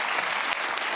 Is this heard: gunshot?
no